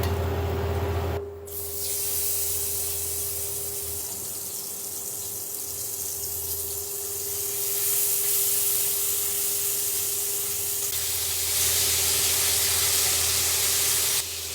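Skin-side-down chicken pieces sizzle steadily in a hot grill pan, a loud continuous spray-like hiss after a brief quieter start, with a faint hum underneath and no talk.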